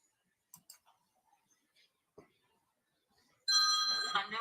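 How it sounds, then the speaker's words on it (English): A telephone rings in a quiet room with faint ticks and small noises before it, then the loud, sustained ring starts partway through and continues to the end. "Oops, got a phone call."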